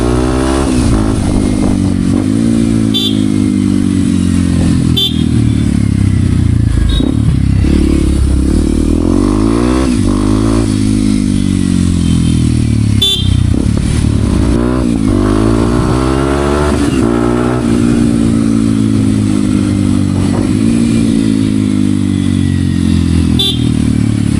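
A modified Kawasaki KLX 230 dirt bike with a 230cc engine is ridden around Bangalore, its single-cylinder engine loud and close, rising and falling in pitch as the throttle is worked, with brief clattering bumps along the way.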